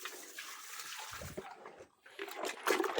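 Water is poured over a pig, splashing in uneven bursts, with a brief lull before a heavier gush; close and fairly quiet, no talking.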